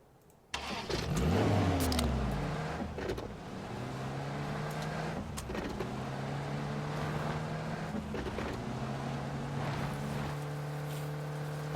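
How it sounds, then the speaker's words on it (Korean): An armored vehicle engine in PUBG starts up with a sudden loud rumble, then settles into a steady, mid-pitched idle with slight rises in revs, fairly close and heard on its own. "장갑차 소리가 나는 것 같아."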